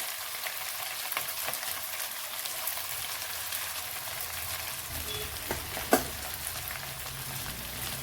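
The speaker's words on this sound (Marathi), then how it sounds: "आणि मस्त असं अलगदपणे राईस यामध्ये मिक्स करून घेऊया" Cooked basmati rice stir-fried in a pan for chicken fried rice gives a continuous crackling sizzle, with a few soft scraping stirs and one sharp clink of the spatula near the end.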